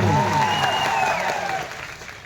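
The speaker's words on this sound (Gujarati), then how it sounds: "આપણે જોરદાર તાળીઓ પાડીએ" Crowd at a village political meeting clapping together, a dense burst of applause that starts strong and gradually thins out over a couple of seconds, with a voice calling out over it near the start.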